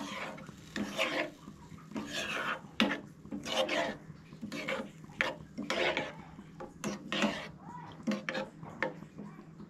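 Thick chutney paste being mixed with cumin in a bowl, a repeated rasping, scraping rub of spoon against the vessel in irregular strokes, close and moderately loud.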